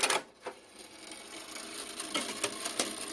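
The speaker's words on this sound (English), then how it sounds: "a clockwork mechanism starts up and it drops a sequence" A clockwork mechanism whirs as it starts inside a coin-operated drop-card viewer, a penny-arcade machine with a spool of picture cards, giving a steady mechanical rattle with a few sharper clicks.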